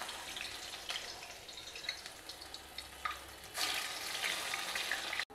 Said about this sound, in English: Make a hole in the center and drop it into the oil.